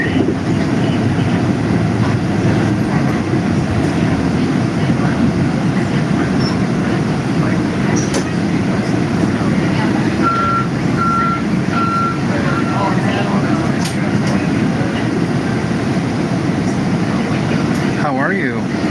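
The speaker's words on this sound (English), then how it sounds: "We're on the 74 CTA westbound bus, westbound on Fullerton bus" Westbound CTA route 74 city bus on Fullerton in Chicago, a steady low engine and road rumble filling the ride continuously and loudly, with a brief repeating beep partway through.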